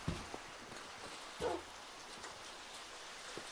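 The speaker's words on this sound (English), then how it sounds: "Sounds like it's raining again." Faint, steady Minecraft rain hisses throughout, with a soft thump or two in the background and no talking.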